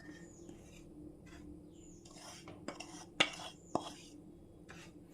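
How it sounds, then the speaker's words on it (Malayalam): Milk powder being stirred into melted ghee in a pan over a medium flame, with a utensil scraping and clinking against the metal in soft, irregular strokes and two sharper taps near the end. "നല്ലപോലെ ഒന്ന് ഇളക്കി കൊടുക്കാം"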